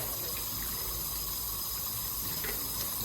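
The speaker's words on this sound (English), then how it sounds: "At the sink, I'm going to totally clean my bucket." Water runs steadily from a sink tap while a bucket is rinsed clean, a continuous close hissing gush with no breaks.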